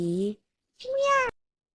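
A cat being fed a lickable treat meows twice in quick succession, close and clear, with a short silent gap between the two calls.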